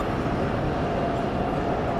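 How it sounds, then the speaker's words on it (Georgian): Old and modern trams rattling along rails in Lviv's narrow streets, a dense, steady rumble with no pauses. "ლვოვის სიმბოლო ძველი და თანამედროვე ტრამვაის ხაზებია, რომელიც რაკრაკით მიუყვებიან ლიანდაგებს."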